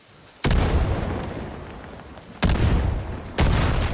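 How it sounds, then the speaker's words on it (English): Three heavy TNT blasts in the video game Far Cry New Dawn, each a sudden loud boom with a long rumbling tail, the second and third coming in quick succession near the end. "I'm throwing TNT at it."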